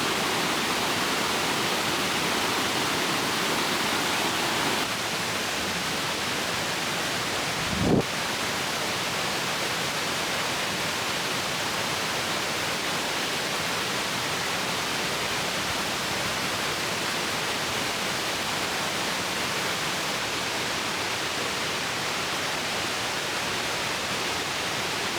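Stream water in the Galloway wilderness rushes in a loud, steady, unbroken wash, swollen by heavy rain, with one brief knock partway through.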